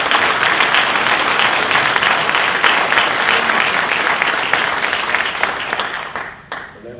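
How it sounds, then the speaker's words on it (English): Loud, close applause fills a lobby day lecture hall for an executive director being introduced, continuous dense clapping that holds steady for several seconds before thinning out and fading near the end. "Give him a round of applause."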